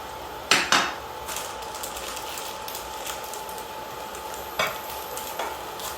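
Chicken breast bulgogi with green onions sizzles steadily in a pan while a utensil scrapes and knocks against it a few times.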